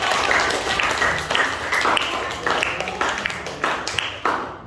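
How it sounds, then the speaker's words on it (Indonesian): A classroom of students claps together, close and fairly loud, with distinct individual hand claps standing out in a loose, uneven rhythm over a few seconds before it fades. "Oke, tepuk tangan buat"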